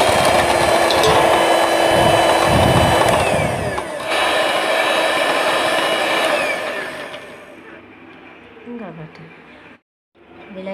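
An electric beater whips a snow pudding mixture in a bowl, a loud close continuous motor whine that drops in level partway through and then cuts out briefly near the end, with a voice talking over it.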